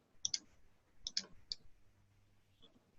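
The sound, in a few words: mouse click on OK button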